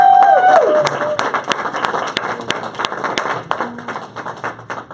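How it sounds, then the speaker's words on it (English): An audience applauds with dense, sustained clapping that gradually thins out, while a voice speaks briefly at the start. "Give yourselves all a great round of applause."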